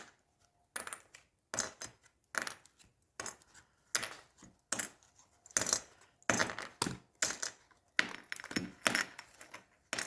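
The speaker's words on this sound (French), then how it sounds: "je vais retirer toutes mes pinces." Clips are pulled one by one off glued paper Easter baskets, producing a quiet, close series of irregular snapping clicks and light clattering taps.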